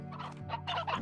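Brief burst of chicken clucking in the game Slime Rancher, several quick clucks in a row, clear and close with a synthetic, game-like quality.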